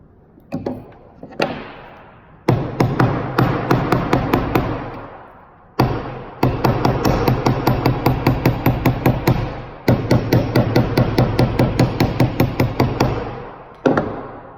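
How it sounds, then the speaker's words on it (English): Hammer blows ring out on a metal plate in quick repeated bursts of sharp, close, loud strikes, with short pauses between runs and a few single hits at the start and end, no talking. "Then you're going to hammer it on the metal plate or an anvil."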